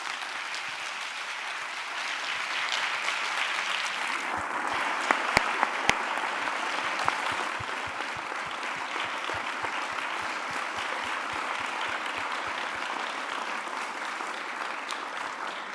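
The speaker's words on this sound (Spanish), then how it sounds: "le diéramos su homenaje dándole un fuerte aplauso y dando fin a la charla" Sustained audience applause from a lecture crowd closing a keynote talk on art and complex systems, a steady dense clatter of many hands clapping for the full stretch, with a few sharper individual claps standing out.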